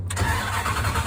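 A 5.9 Magnum engine with a rebuilt full exhaust fires up from cold, catching quickly and settling into a low, steady rumble heard close by.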